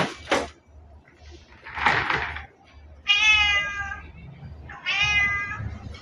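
Two long, loud meows from a cat at feeding time sound close by, following a few soft knocks and rustles, with quiet gaps between.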